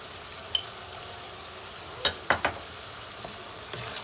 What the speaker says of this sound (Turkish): birazcık etimle soğanımı kavurmaya bırakacağım